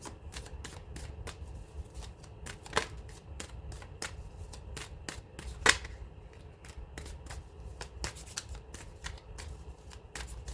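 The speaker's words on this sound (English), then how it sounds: "as I was shuffling the cards" Tarot cards are shuffled in a quiet room, a continuous run of fast riffling flutters and soft snaps with a few sharper card slaps, close and moderately loud, with no talking.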